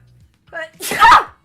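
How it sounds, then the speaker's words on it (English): A single loud sneeze, preceded by a quick sharp inhale, very close and abrupt. "I've learned how to sneeze in my adulthood"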